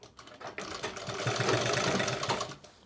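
A sewing machine runs a steady stitch along the folded edge of a plazo, its close, rapid whirring hum holding for a couple of seconds before slowing to a stop.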